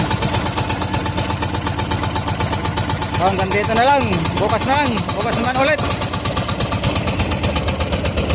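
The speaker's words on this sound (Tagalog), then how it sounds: "nabuo na yung makina natin" A newly assembled engine on a fishing boat idles with a steady, rapid mechanical chugging that runs throughout. Someone talks over it briefly in the middle.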